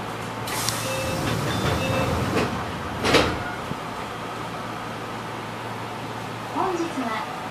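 Enshu Railway 2007F electric train on an elevated line, with door-closing chimes and a brief pneumatic hiss, then the low hum of the train starting to move, under station ambience.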